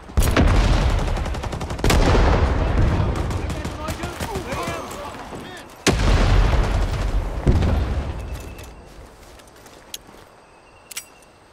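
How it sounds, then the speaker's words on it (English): Gunfire and grenade blasts in Rising Storm 2 on the Dong Ha map, with M1 carbine shots among them, loud and close. Heavy booms roll into crackling shots and fade toward a few sparse pops near the end. "Got one with the nade again."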